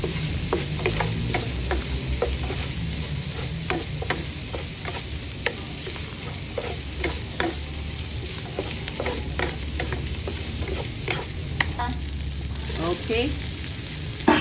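Ground pork with soy sauce sautés in a pan, a steady sizzle broken by frequent rhythmic scrapes and taps of a spatula stirring, with a brief spoken word.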